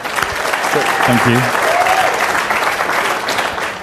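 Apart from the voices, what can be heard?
round of applause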